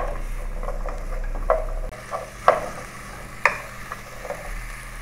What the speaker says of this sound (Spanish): Ahora acá vamos a poner las papas con la zanahoria. Sofreímos aquí unos 3 o 4 minutos.